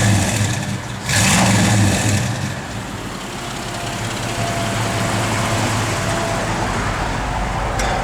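A 1959 Chevrolet Apache pickup with a new turbo exhaust, engine idling loud and close with a sharp rev burst near the start, then a steady rumbling idle that keeps running to the end.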